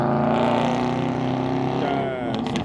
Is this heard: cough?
no